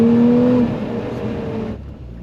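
Lotus Emira sports car accelerating in sport mode, a loud engine drone with a rising tonal whine at first, then steady road rumble that softens toward the end.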